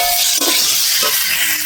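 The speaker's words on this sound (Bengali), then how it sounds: "এইভাবে ভালো করে কষিয়ে নিতে হবে।" Close, steady sizzle of spices frying in oil for a Bengali prawn dish, with two soft scraping stirs of a spatula breaking the continuous hiss, and no talk.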